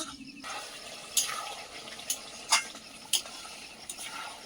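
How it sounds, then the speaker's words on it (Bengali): Meat curry cooking in a pan, stirred by hand in a home kitchen, gives a soft steady simmering sizzle broken by several sharp scraping stirs, fairly close with no talking. "এটা তরকারি বানাচ্ছি"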